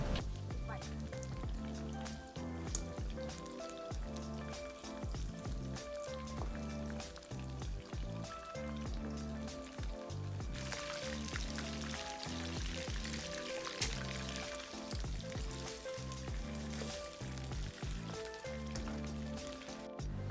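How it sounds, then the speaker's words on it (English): Prawns frying on high heat in a pan, a dense continuous sizzle and crackle that stays loud throughout, with a voice talking over it. "We're now going to start frying our prawns. Fry them on high heat."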